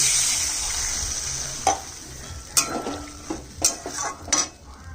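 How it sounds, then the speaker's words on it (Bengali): Water goes into a fried spice paste for a thin fish curry with potato and tomato. A steady hiss of sizzling oil runs throughout, broken by several sharp spoon knocks and scrapes against the pan. "মশলা তেল আলাদা হয়ে গেছে, কষানো হয়ে গেছে, এটা ঝোল দিয়ে দিচ্ছি, জলটা দিচ্ছি।"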